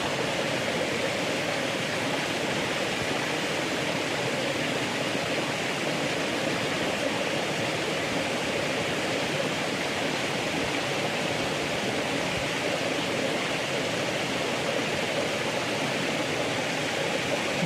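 A mountain stream in Nepal, where fish are being caught, rushes in a steady, loud, unbroken wash of flowing water with no voices over it.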